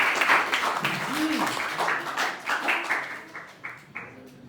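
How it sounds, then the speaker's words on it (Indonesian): A group of students applauds at the end of a school research presentation at SMA Kolese Gonzaga, a steady patter of clapping mixed with voices and a cheer, moderately close. "Tepuk tangan dulu,"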